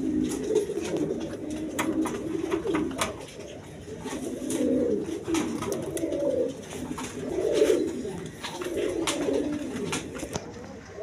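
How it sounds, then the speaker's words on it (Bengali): Pigeons at a pigeon sale coo continuously in rolling, overlapping phrases, loud and close, with crisp clicks and rustles from the birds alongside. "দর্শক এইখানে আরেক পেয়ার গররা কবুতর আছে দেখেন, রেড কালারের মধ্যে।"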